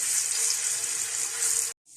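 Ginger garlic paste fries in hot oil for a vegetable qorma, giving a loud, bright, continuous sizzle that cuts off abruptly near the end, then briefly resumes.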